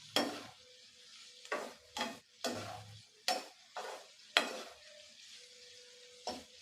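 Bitter gourd frying in oil in a pan, with a faint sizzle beneath a series of distinct scraping stir strokes that come every half second or so, close and clear.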